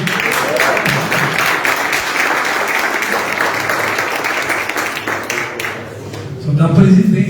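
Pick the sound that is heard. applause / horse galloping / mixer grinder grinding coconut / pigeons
applause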